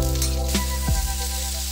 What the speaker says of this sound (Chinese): 把洋葱炒软